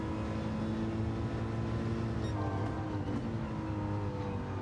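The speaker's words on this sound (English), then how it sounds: "it sounds like a rotary, it's stunning." A rotary-engined race car in Gran Turismo 7 holds a steady, loud, buzzing drone with a rising pitch sweep partway through, heard continuously without any talk.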